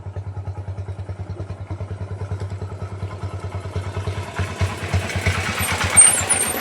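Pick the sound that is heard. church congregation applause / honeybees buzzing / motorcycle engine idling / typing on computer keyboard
motorcycle engine idling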